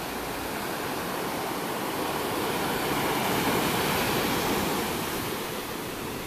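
Steady ocean surf washes at Virgin Beach in Bali, a continuous broadband roar of breaking waves that swells slightly in the middle, heard alone with no talking.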